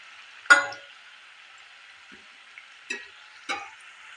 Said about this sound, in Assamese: এইদৰে মই গোটেই পিঠাখিনি ভাজি ৰেডি কৰি ল'ম।